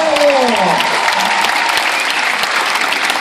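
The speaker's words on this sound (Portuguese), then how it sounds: "Grande aplauso ao Dudu Caminhão!" Audience applause fills a cruise ship show on the MSC Fantasia, dense and steady for the full stretch, with a sung or shouted voice trailing off at the very start.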